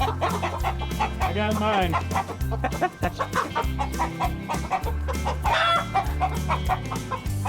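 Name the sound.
chicken clucking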